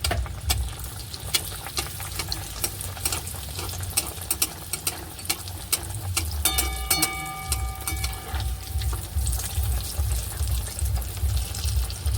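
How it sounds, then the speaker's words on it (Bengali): Dal puri stuffed with lentil filling frying slowly in oil over low heat, a steady soft sizzle and bubbling running throughout with occasional light clicks of utensils. "হালকা আঁচ করে দেবেন, ভেতরে যেহেতু পুর আছে আস্তে আস্তে ভাজা হবে।"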